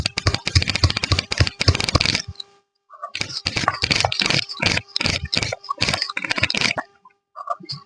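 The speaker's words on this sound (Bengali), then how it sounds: "এই জন্য আমি শিলনোড়াই বাটছি" Ginger ground on a shil-nora stone slab grinder: loud, close, rhythmic gritty scraping strokes in quick repeated bursts, with a brief pause partway through and a few soft knocks at the end.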